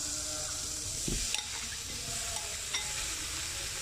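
Meat frying in a hot pan with a steady broadband sizzle and a brief burst of added crackle as the pieces go in, close and fairly quiet, with light stirring clatter and no talk.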